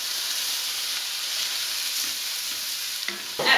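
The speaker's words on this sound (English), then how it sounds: "what we do now is add the rice." Rice tipped into oil and butter in a pressure cooker and stirred, giving a steady close hiss and sizzle that runs throughout, with a brief scrape and rustle of grains near the end.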